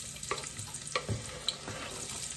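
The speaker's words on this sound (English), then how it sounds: "my grease is all melted in there and sizzling a little bit" Onion hitting melted bacon grease in a pan on medium heat gives a soft, steady sizzle with a few faint stirring scrapes and clicks, fairly quiet and close.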